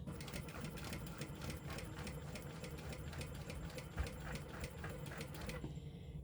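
A sewing machine stitches a Bartleby baby sling in fast, even rhythmic bursts of needle clatter. The stitching sounds close and loud, then stops abruptly just before the end.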